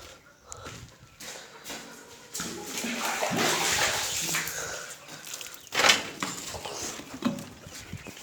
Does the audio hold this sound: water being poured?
yes